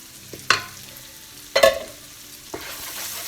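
Kebab curry with tomato puree stirred in a pan for a Pakistani karahi-style dish: three distinct scraping strokes with a spoon, each followed by a soft bubbling sizzle, close and fairly quiet between strokes.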